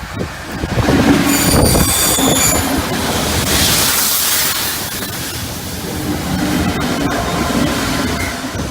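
Train hauled by locomotives 186 and 074 rolls past close by, wheels squealing in high sustained tones over a continuous rumble of rail noise with faint clatter.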